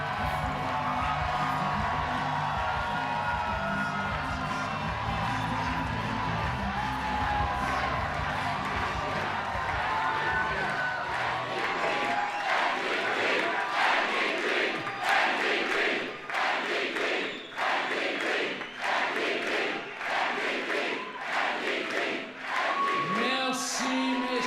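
A big crowd at a 2011 Canadian federal election rally cheers, whoops and shouts in a loud, sustained roar that swells into rhythmic bursts of clapping and chanting partway through.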